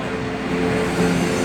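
A Citroën 2CV rolls along a Paris street, its engine a steady, fairly loud buzzing drone that holds throughout without any talking.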